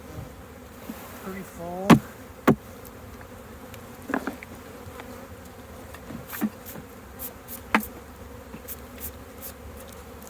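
Honey bees buzz steadily around honey frames being pulled during a harvest, a close continuous drone broken by a few sharp knocks and clunks, with brief quiet talk.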